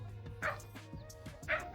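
A dog barks at a house in a Hindi-speaking village, with sharp yips sounding twice about a second apart at mid distance over a low background hum. The household keeps two dogs.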